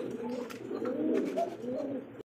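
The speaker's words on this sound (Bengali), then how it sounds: "দেখতে পাচ্ছি এখানে একজোড়া বোম্বাই কবুতর" A pair of Bombay pigeons coo together in low, rolling, throaty calls, close and steady for about two seconds, with no voices.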